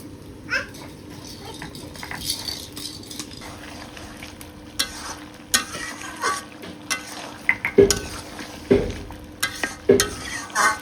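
Goat meat stir-fried in a pan, a low continuous sizzle broken by sharp scrapes and clatters of a spatula, and a cat meows faintly now and then nearby.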